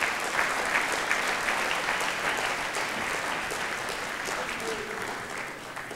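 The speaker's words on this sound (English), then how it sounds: "Cheer for the coach." A crowd at an award ceremony applauds the coach with sustained, dense clapping that holds steady for several seconds, fairly close and full.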